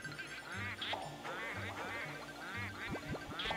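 Duck-like quacking from ghosts in the Luigi's Mansion video game, a steady run of nasal quacks over a low looping game soundtrack, loud and close throughout.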